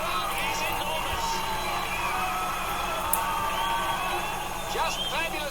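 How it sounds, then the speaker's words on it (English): A huge evening crowd at a rugby league match at Carlaw Park, Auckland, roars and cheers continuously, with whoops rising above the din and a commentator talking over it. "This crowd is enormous."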